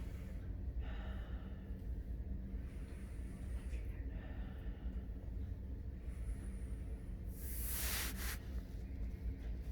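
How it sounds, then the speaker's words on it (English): A cancer patient at a medical checkup takes deep breaths in and out while leaning forward, soft close airy inhalations and exhalations over a low rumbling background, with one louder rushing breath near the end. "Deep breath in and out."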